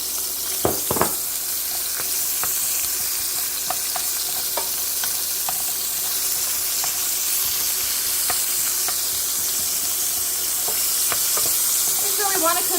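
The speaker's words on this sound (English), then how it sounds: "we're going to add in 1 medium onion that has been sliced up." One sliced medium onion fries in a pan over medium heat, giving a continuous bright sizzle with scattered utensil taps and light scraping throughout.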